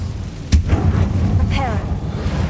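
An Incendio fire spell is cast in Hogwarts Legacy, a sudden loud burst followed by a rushing roar and crackling whoosh that trails off over about two seconds.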